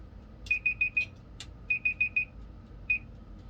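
A series of short, high electronic beeps from a heat press timer sounds in quick groups of four, pausing, then four more, followed by a single beep, marking a finished sublimation tumbler.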